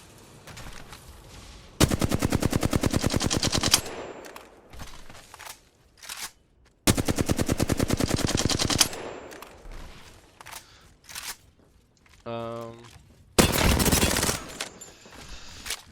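Rapid automatic gunfire from Apex Legends aimed at training dummies, arriving in two loud sustained bursts with a few shorter volleys and mechanical clicks between them, no talking.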